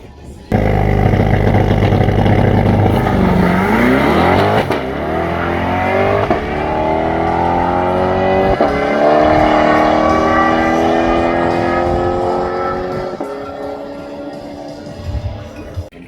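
A Chevrolet C8 Corvette with manual shifting at a private track rental, engine revving and pulling hard through several upshifts with rising tones, loud and close, then easing off toward the end.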